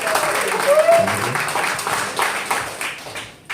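Applause from a comedy show audience at a brewery, a moderate wash of clapping that swells briefly and then tapers off, with a voice speaking over it.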